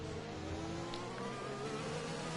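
F1 cars surge off the line together at a race start in the F1 2021 video game, a faint whining blend of engines and whir that stays steady throughout with no voices.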